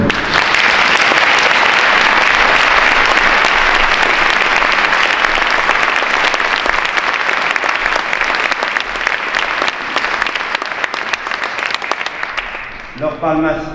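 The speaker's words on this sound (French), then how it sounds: "Il y en a qui sont là, je leur demanderai de se lever et on peut les applaudir." A seated audience at a town mayor's New Year's address applauds local athletes, with loud, dense, sustained clapping that fills the room for about thirteen seconds and then tapers off as it ends.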